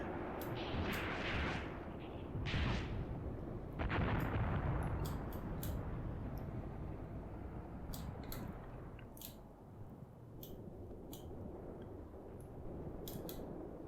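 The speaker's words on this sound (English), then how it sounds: "That looks like your artillery just come in." Artillery shells land in the Graviteam Tactics war game, a run of heavy booming impacts and scattered sharp cracks rolling across the distance, with no speech over them.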